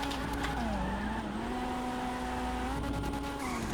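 The Jester Classic sports car in GTA 5 runs with the handbrake held, a steady, loud engine drone that rises and dips slightly in pitch alongside a continuous scraping, skidding tire noise.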